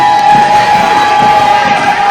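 Loud crowd roaring and cheering at a wrestling event, a dense continuous wall of voices with sustained shouts held steady throughout.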